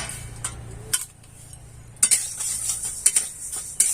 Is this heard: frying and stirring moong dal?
yes